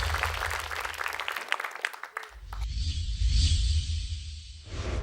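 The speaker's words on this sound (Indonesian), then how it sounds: "Beri tepuk tangan untuk tim Humaira." A studio audience at an Indonesian Quran memorisation competition applauds a contestant team, with brisk clapping in the first half that breaks off abruptly and gives way to a swelling musical sting or whoosh.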